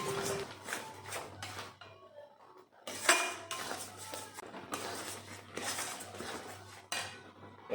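Sour fruit jam being stirred in a pot, with clinks and scrapes of a utensil against the cookware in uneven bursts, close and moderately loud, while a low steady hum sits underneath.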